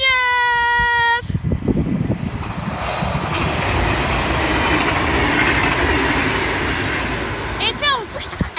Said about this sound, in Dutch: zie ik nou goed dat er een trein komt?